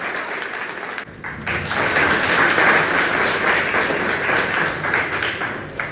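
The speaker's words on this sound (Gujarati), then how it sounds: "જોરદાર તાળીઓ થવી જોઈએ." An audience at a Surat Police public event breaks into loud, sustained applause after a short quiet pause, dense clapping filling the room for several seconds.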